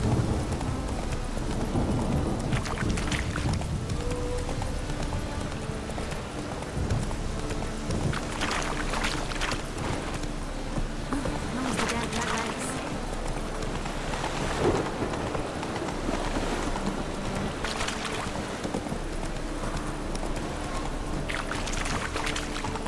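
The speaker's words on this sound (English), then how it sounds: "Rain again." Steady heavy rain pours throughout in The Witcher 3, with several rumbles of thunder rolling in and out, a dense continuous storm with no talking.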